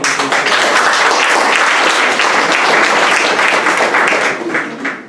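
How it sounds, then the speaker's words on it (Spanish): Loud, sustained applause from an audience at a synod assembly, dense clapping filling the whole stretch before thinning slightly at the end. "Así que démosle un aplauso."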